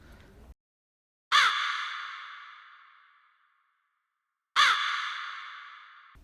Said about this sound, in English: one thing I also did was add this like crow sound